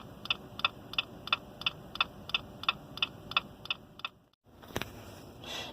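A Jeep Wrangler's turn signal ticks steadily, a regular click repeating about a dozen times at an even pace, close and crisp, then stops; a brief rustle follows.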